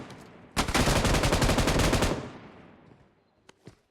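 Rapid automatic gunfire in a PUBG-style battle royale game, a loud sustained burst of roughly 1.5 seconds that then fades into a decaying tail, with a few faint isolated shots afterward.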